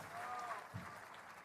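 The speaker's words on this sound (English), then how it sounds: "Applause, please, for Mr. Joko." Audience applause for a farmer representative during the Indonesian president's annual state of the nation address, a steady wash of clapping with a tonal hum and faint voices over it for about a second and a half.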